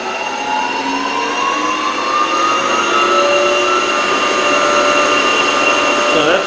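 A Precision Matthews PM1440-BV metal lathe runs at speed, giving a steady, fairly loud mechanical whine with sustained tonal hum and no pauses throughout.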